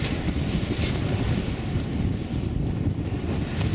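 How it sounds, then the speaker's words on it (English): Strong wind buffets a tent pitched at Oke Tor on Dartmoor during bad winter weather, a continuous loud roaring rumble with gusty surges and no voices. "The wind is picking up out there."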